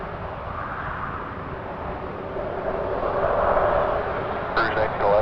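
An Air Canada Rouge Airbus A319 takes off from runway 06 left at Toronto Pearson Airport. Its steady jet roar is heard from a distance and swells slightly as the takeoff run goes on.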